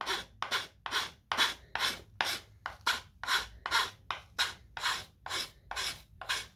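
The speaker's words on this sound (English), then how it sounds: "Now I'm going to go in with this file." A hand file rasps over carved cedar in a wood shop, about fifteen steady back-and-forth strokes in an even rhythm, close and clear with no talking.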